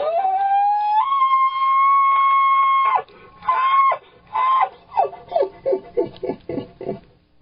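A voice imitating a bull elk: a long rising whistle held for seconds, then a series of short grunting chuckles in quick, uneven rhythm.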